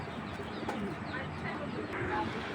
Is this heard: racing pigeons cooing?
yes